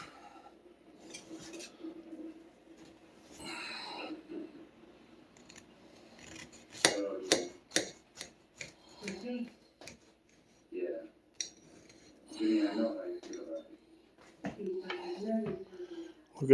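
A knife saws through a loaf of zucchini bread with walnuts and raisins, giving quiet scattered scraping strokes and crumbly crunches with a few light clinks, and a voice speaks softly in between.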